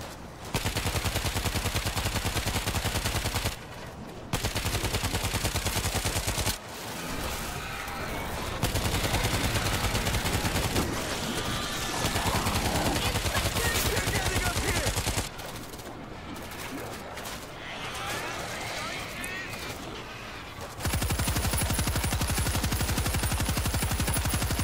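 Sustained automatic gunfire with explosive ammunition in World War Z Aftermath, Marseille level, loud and dense bursts with brief pauses between volleys, continuing throughout.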